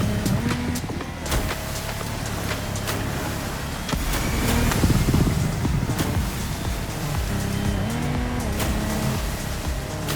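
A Lamborghini Technomar boat's engine racing across water in The Crew Motorfest, a loud steady roar with shifting pitch and splashing surf over about ten seconds, up close.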